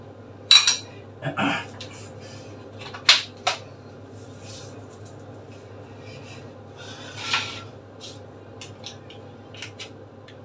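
A metal spoon clinks against dishes in a home kitchen during iftar cooking, a few sharp scattered clicks with quiet gaps and a low fan-like hum beneath.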